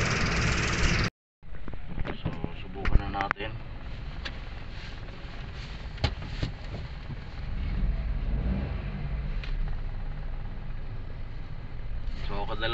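A Toyota Wigo engine with a cylinder 2 misfire hums steadily during a road test, with road noise and occasional bumps and clicks, while a voice talks over it.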